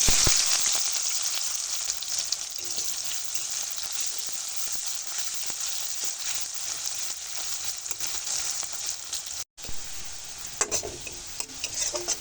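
Sliced onions sizzle steadily in oil in a pan while being stirred, a constant crackle with soft scraping strokes and one short pause.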